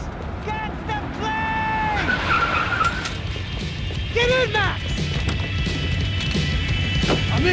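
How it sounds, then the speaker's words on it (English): A car in Max Payne 3 revs and its tires squeal in skids, loud and close, with high screeching tones rising over steady engine roar while voices talk over the action. "Just drive the fucking car!"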